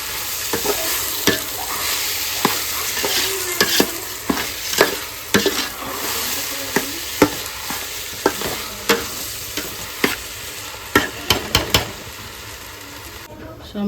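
Rice and onions frying together in a pan, a soft steady sizzle broken by repeated sharp scrapes and clatters of a spoon stirring against the pan, close by.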